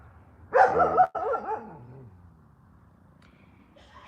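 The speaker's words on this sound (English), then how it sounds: "I don't know what she's barking at" A female dog barks once or twice close by, a loud short burst followed by quiet, heard during a home update from Israel in wartime.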